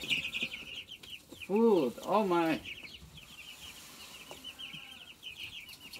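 Chickens in Farming Simulator cluck in two loud, close bursts, with softer clucks scattered around them, while a person speaks briefly.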